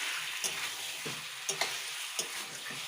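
Chicken curry simmering in a pan after cooking covered on low heat, with released juices; soft, steady sizzling broken by several sharp spoon-against-pan stirring clicks, close up and without talk.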